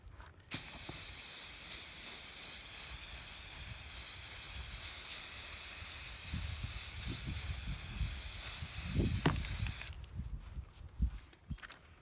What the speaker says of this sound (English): So I'm going to spray a light coat over the entire surface.